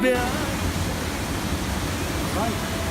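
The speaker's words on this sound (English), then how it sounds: "Pretty noisy here because we got the rush water." Water rushing near the Banias waterfall in a nature reserve, a loud, steady broadband roar that fills the whole stretch without pause.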